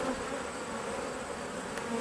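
Dense, steady buzzing of a honey bee swarm of female worker bees, a continuous droning hum close by with no talk over it.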